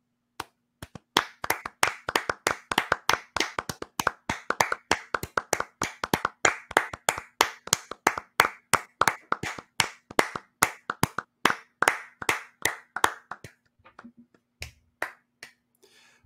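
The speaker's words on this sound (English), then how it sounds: "So now we will clap for the Regal Theater in Warren, Oklahoma." Podcast hosts clapping along in a steady rhythm, dozens of sharp close hand claps at an even pace that thin out and scatter near the end, with no talk over them.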